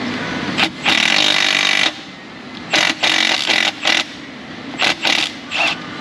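Rapid bursts from a 3/8-inch impact gun driving a stud on a 2007 GMC Sierra 5.3 during catalytic converter work: one long rattling run, then several shorter hammering bursts separated by brief pauses, close and loud.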